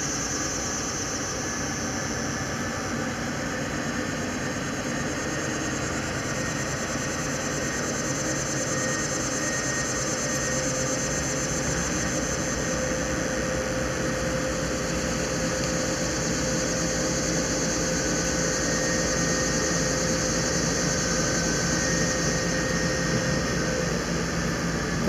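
A big locomotive engine runs in a continuous heavy drone with a steady high whine above it, unchanging for the whole stretch.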